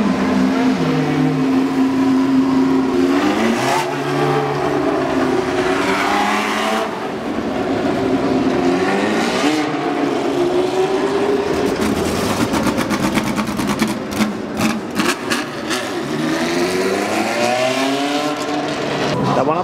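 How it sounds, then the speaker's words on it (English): Several loud old Formula One race cars rise and fall in pitch as they pass close by at Fuji Speedway, with a dense burst of rapid revving in the middle and crowd noise underneath. "Old school Formula One cars."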